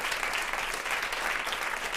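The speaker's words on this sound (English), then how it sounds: "Let's give them a round of applause, please, for the panelists." An audience applauds the panelists at a Ladies Night event on women who shaped New York hip-hop, a dense, even burst of clapping, moderately distant and fairly soft.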